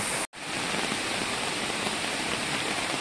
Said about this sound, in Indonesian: tiba-tiba diguyur oleh hujan deras